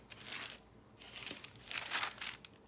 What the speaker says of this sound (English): Let me clean up my paper here.